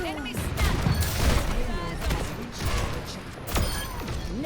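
Overwatch 2 gameplay on Havana as Ashe fires her rifle at a Widowmaker, with repeated sharp gunshots and impacts scattered through a busy mix of game effects.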